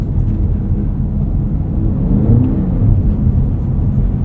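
A 2024 Cadillac CT5-V Blackwing accelerates up a snowy hill, its engine a deep, steady drone heard from inside the cabin that swells slightly as speed builds, with no talking.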